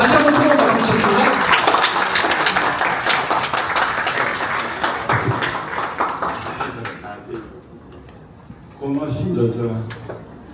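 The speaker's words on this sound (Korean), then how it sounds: "다시 한번 최윤 박수 부탁드립니다." Audience applause at a Korea Wine Challenge roadshow event, a broad burst of clapping that dies away after several seconds, followed by a voice speaking alone.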